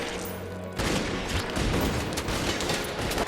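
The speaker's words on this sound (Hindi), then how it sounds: "5 नकाबपोश लोगों ने उस पर गोली चलाना शुरू कर दिया।" A quiet hum cuts abruptly into a sustained, dense burst of rapid movie gunfire from five masked shooters that crackles on loudly without pause.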